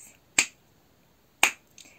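Two sharp hand claps, spaced about a second apart, crisp and close, with a softer third tap at the end, marking a steady beat in a rhythm exercise with no talk.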